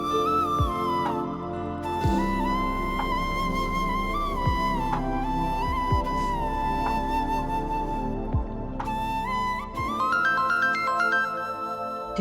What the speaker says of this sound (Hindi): देखो कहीं ताबीर का फोन ना हो